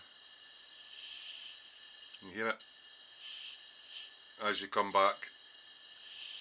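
An airbrush with an empty paint cup sprays a steady high airy hiss in repeated bursts, switching on and off, while someone speaks briefly between them.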